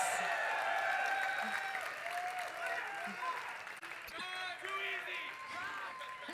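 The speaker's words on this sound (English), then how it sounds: "a round of applause" Faint applause from a distant crowd, steady and soft, with cheering voices mixed in.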